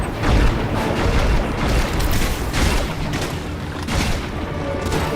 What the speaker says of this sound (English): They tossed a grenade over there.